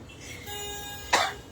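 A single short cough follows laughter, brief and moderately close, in an otherwise quiet indoor room.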